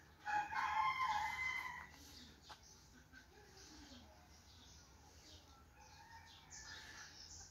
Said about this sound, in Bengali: বাড়ির উঠোনে কয়েকটি মোরগ ঝগড়া করছে।